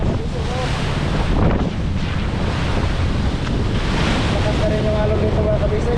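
Ocean waves and strong wind buffeting heard from aboard a small boat, a loud continuous wash and roar with gusty microphone rumble and no clear talk.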